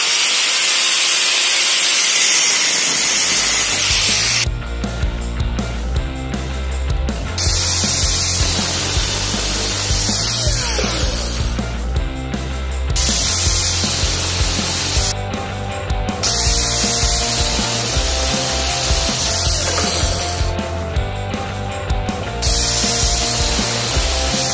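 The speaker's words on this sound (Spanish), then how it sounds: "ahora pues con la radial lo voy a cortar como os he comentado" An angle grinder cuts through a copper pipe sleeve in a loud, continuous whine, with several bursts of harsher cutting noise as the disc bites into the metal. No one speaks.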